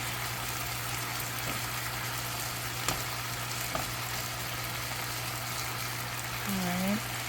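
Steak pieces frying in a pan for pepper steak, a steady hiss and sizzle running throughout with a few soft scrapes and taps as the pieces are turned.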